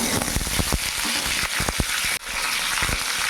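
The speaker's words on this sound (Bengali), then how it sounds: "গরম তেলের মধ্যে পেঁপে আর আলুটা আমি ভেজে নেব।" Papaya and potato frying in hot refined oil in a wok, a steady dense sizzle with crackling bursts and a few stirring knocks, close and loud throughout.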